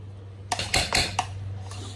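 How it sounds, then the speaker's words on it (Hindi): A metal spoon stirs motichoor ladoo mixture in a pot, giving several sharp clinks and scrapes against the metal close by, spaced irregularly over a couple of seconds. "एक दफा बंद करके इसको चम्मच से जरा हिला लें।"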